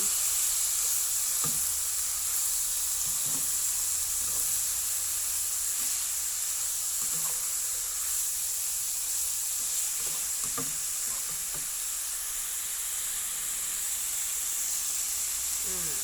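Bean sprouts stir-fried with chicken blood in a hot pan give a continuous close sizzle and hiss, broken by occasional scrapes and taps of the spatula.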